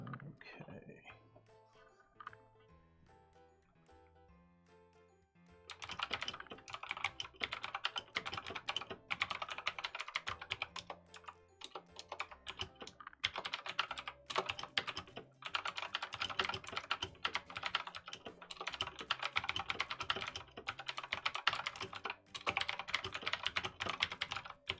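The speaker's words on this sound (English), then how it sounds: "That's me typing." Fast, continuous typing on a computer keyboard, dense clattering keystrokes close by after a few quiet seconds with scattered soft clicks at the start.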